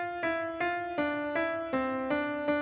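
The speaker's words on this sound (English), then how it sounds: "The first bar sounds like this," Opening bar of the Dies Irae Gregorian hymn melody, played as seven clear, evenly paced notes on a bright, ringing instrument, alone and without voices.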